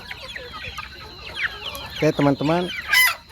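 Backyard village chickens cluck in short repeated bursts, with a rooster crowing near the end; someone speaks briefly at the start over the steady flock noise.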